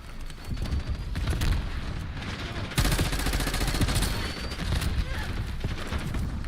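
Rapid, overlapping gunfire crackles from a hectic Call of Duty multiplayer match where players are using shotguns, a dense, loud barrage of shots with a heavy burst near the middle.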